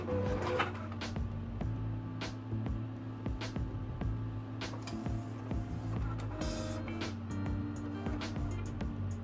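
An Epson SureColor P800 printer, converted for direct-to-film printing after sitting unused, runs a print head nozzle check: a steady mechanical hum with repeated carriage clicks, thumps and whirring passes, close and continuous with no talking.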